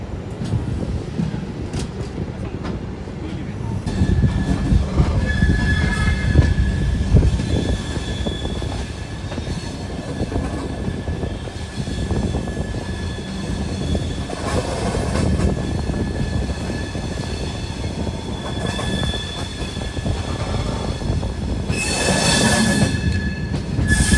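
An AC passenger train on the Bengaluru to Tirupati route rumbles steadily with rolling wheel noise and occasional high metallic squeals, close and continuous throughout with no voices.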